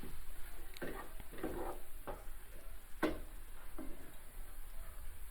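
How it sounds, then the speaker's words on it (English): Mushrooms salted and sautéing in a dry, oil-free pan, soft sizzling with several scraping stirs of a utensil against the pan, quiet and close, without talk. "And then we're going to saute in the dry pan"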